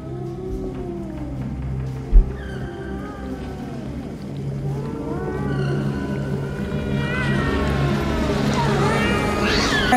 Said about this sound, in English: There's so many cats.